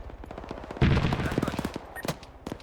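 Rapid bursts of gunfire from vehicle-mounted weapons in the military video game Arma 3 during a town assault, loud and close, with a dense rattling volley and a few later shots, mixed with radio chatter.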